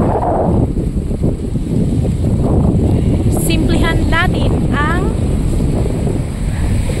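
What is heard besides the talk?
strong wind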